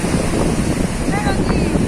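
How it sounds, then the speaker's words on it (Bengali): Rough sea waves churn and surge along a shore under gusting wind, a loud continuous roar with buffeting rumble close to the microphone and no clear speech. "সমুদ্র উন্মাদ হয়ে রয়েছে, যখন তখন একটা বড় সড়ো ঢেউ আসতে পারে"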